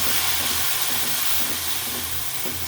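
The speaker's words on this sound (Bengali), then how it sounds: "মশলার তেলের উপরে ভাজা ভাজা হোক।" Spice paste of ground ginger and onion paste with salt fries in hot oil, giving a steady, even sizzling hiss that stays moderately quiet and unbroken throughout.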